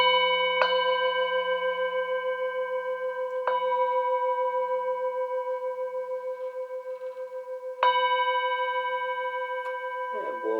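Remuna singing bowls struck one after another, three clear strikes each blooming into long sustained ringing tones rich in overtones, with slow pulsing beats as the notes hang and decay, close and calm.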